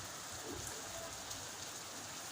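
Afternoon rain falls steadily in a continuous, even hiss of drops on surfaces, with no voices and no breaks.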